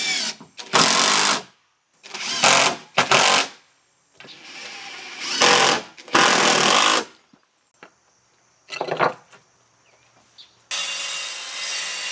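A power tool drives screws into a 10x12 insulated workshop shed floor in repeated loud bursts of a second or so, separated by pauses, with a steadier whirring run near the end.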